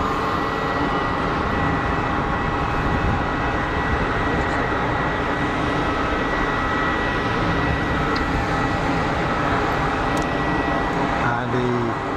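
An easyJet airliner crossing the runway threshold on landing at Geneva Airport produces a loud, sustained broadband jet roar that stays steady and unbroken for the whole stretch.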